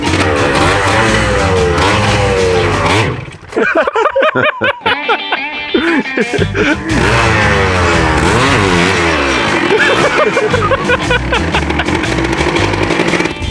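A small two-stroke motorbike engine running on premix revs loudly nearby, buzzing in rising and falling bursts and dropping off briefly partway through before winding up again.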